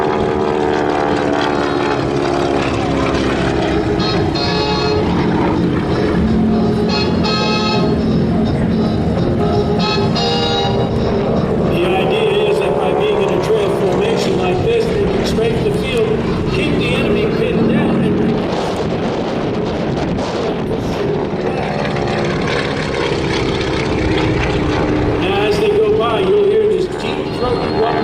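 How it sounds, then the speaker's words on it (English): Propeller aircraft making a flyby on a straight run at a military base airshow, its engine rapping and prop tips going supersonic; a loud, sustained droning roar with a buzzing edge fills the whole stretch, with a voice commentating over it. "That's the sound of the propeller as the tips go supersonic."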